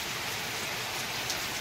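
Heavy rain pours down on a village, a dense, steady rush of falling water with no gaps and no voices.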